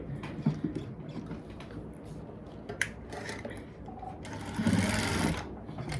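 A sewing machine stitches elastic and buckram in short runs of rapid mechanical whirring, broken by pauses, clicks and small handling noises, all close by.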